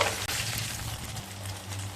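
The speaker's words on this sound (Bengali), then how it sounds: "সমস্ত মাছগুলোকে ভেজে নেব।" Parshe fish frying in hot oil gives off a dense, continuous crackling sizzle, steady and close, with no voices.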